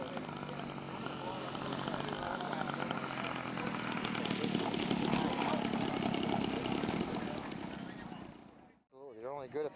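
A glow-fuelled model airplane engine with an untuned low idle jet screams steadily at full throttle, loud and close, then cuts off abruptly, leaving a brief voice at the end.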